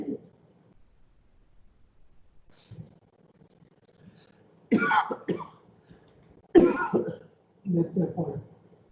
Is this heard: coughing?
yes